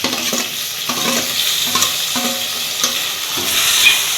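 Tomatoes fry in a clay pot with sautéed onions, a steady hiss, scraped and stirred every second or so, with a louder sizzle near the end.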